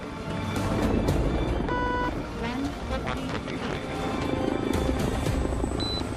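A rescue helicopter comes in to land on a hospital helipad, rotor thudding loudly and steadily with turbine whine, a few electronic beeps over it.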